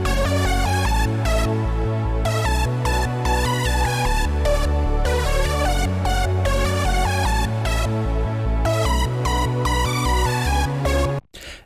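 Hardstyle melody and bass line built from Hardstyle Essentials presets, loud pulsing kick-bass rhythm under a bright, choppy lead synth riff, driving steadily before cutting off abruptly at the end.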